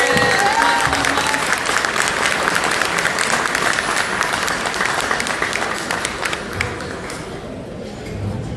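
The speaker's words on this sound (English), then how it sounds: "Ladies and gentlemen, please put your hands together for Bilal Al-Hayat." A crowd at a Canterbury Bankstown mayoral iftar dinner claps warmly as a guest is introduced, loud and dense at first with a few cheers, then thinning gradually over about eight seconds.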